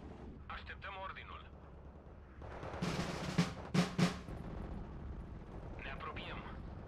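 Weapons fire in a Steel Division 2 battle, a few sharp, loud bursts clustered mid-clip over a low rumbling backdrop, with someone talking before and after the shots.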